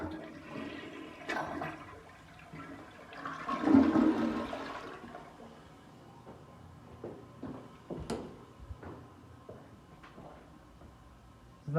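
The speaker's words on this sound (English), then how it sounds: "Guess we'll flush it." A hotel toilet in an Atlantic City casino resort room flushes once, with a rushing, gurgling surge of water that rises and then trails off into quiet refilling, heard close and alone.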